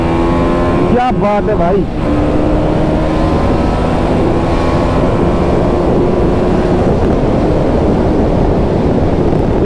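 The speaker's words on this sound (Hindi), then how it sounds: "इसका जो अभी आप एग्जॉस्ट नोट सुन रहे हैं ना, वो इसके स्टॉक एग्जॉस्ट का है" A 2023 TVS Apache RR310 BS6 motorcycle with stock exhaust runs at speed, giving a loud, steady engine drone mixed with heavy wind rush, while a rider speaks briefly.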